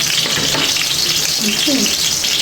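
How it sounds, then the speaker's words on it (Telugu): Chopped onion frying in hot oil in a pan for a fish curry, a steady loud sizzle that holds evenly throughout, close by. "ఇప్పుడు కొంచెం ఆనియన్ వేగనిద్దాం."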